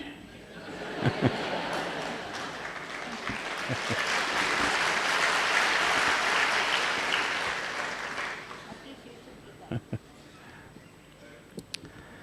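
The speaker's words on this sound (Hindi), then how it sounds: "ये शुभ शुरुआत की ताली बजी" Applause from an audience at a ceremony swells into a broad, steady wash of clapping that peaks mid-way and then fades, with a few isolated claps and light chuckles at the edges.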